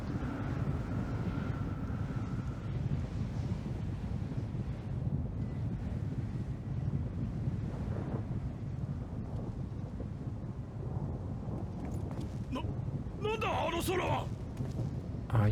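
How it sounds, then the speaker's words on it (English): Howling storm wind in the Final Fantasy XIV video game, a constant heavy low rumble and rush with thunder-like swells, while a person talks over it in the later part. "a normal storm? Because it doesn't sound like it."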